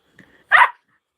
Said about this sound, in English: barking, and she found her voice, as you now hear